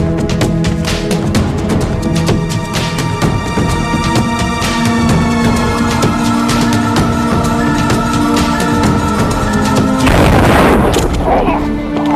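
Battle gunfire and explosions in a Thai war drama about ghost soldiers, with dense, loud, continuous booms and shots mixed under music and shouting voices, and a heavier blast near the end.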